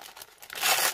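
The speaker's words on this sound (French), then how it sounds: "Alors moi, j'y vais à la barbare, j'arrache tout." Gift wrapping paper ripped open by hand, a brief close crinkle followed by a louder rasping tear, about a second long.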